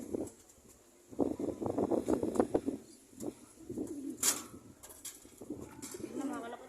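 Pigeons coo close by in a burst of soft, repeated throaty calls, then quieter scattered coos with a few brief chirps and rustles in between.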